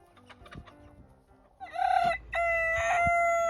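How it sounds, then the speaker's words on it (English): A silkie rooster crows close by in a loud, two-part call with a strong harmonic tone, following some soft clucking and scratching from the flock on a homestead. "Oh no, we have another rooster on the homestead."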